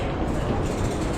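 A subway train rumbles steadily at Aksaray metro station in Istanbul, a dense, loud rolling noise heard from close by with no pauses.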